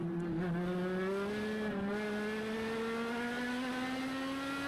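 A race car runs around the banked oval section of the Charlotte Roval during a winter event, its engine drone steadily rising in pitch as it accelerates, loud and continuous with no talk.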